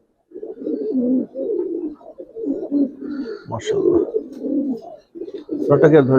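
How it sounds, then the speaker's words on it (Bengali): Young Giribaz pigeons coo close by in low throaty bursts, one after another, with a brief bit of talking or shuffling mixed in. "প্রত্যেকটা কবুতর উঠতি কবুতর"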